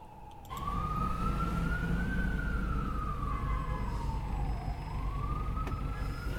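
A wailing emergency siren rises and falls in long sweeping tones, loud and steady over a low traffic rumble, with no talk.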